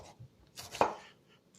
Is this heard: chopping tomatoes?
yes